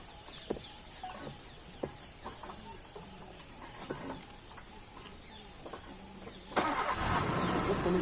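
A safari vehicle's engine turns over near the end of a quiet stretch of forest at Rajaji Tiger Reserve in Uttarakhand, after faint birdsong and scattered small clicks.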